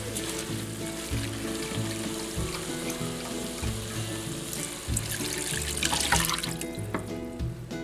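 Beef broth pours in a steady splashing stream into a pot of chili, close and continuous for several seconds, with no voices over it.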